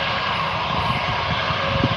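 A Jetstar airliner rolls out at Gold Coast Airport, its engines giving a loud, steady broadband roar that holds close and constant throughout, with no voices.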